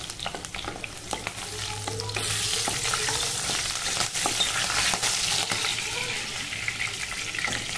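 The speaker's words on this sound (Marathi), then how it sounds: "तेजपत्ता आणि मिरच्या मी याच्यामध्ये टाकून घेतलेल्या आहेत। चांगला भाजून द्यायचा त्याच्यात।" Green chillies and bay leaves frying in oil in a pan for chole masala, a close crackling sizzle with sharp pops and stirring clicks running steadily throughout.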